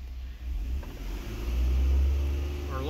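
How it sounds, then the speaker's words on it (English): A 2014 Ford Taurus engine with a clogged catalytic converter revs up from idle, a low rumbling drone that swells in the second half, steady and close. "Let me go ahead and bring it up a little bit on RPM."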